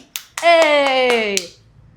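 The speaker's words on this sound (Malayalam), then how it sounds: "കൈയടിക്ക്." A handful of sharp hand claps ring out at a quick, even pace over a loud, sustained voice-like tone that slowly falls in pitch.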